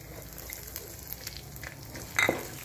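Chopped garlic fries in oil in a kadai, a quiet, steady crackling sizzle with a brief louder clatter of stirring near the end.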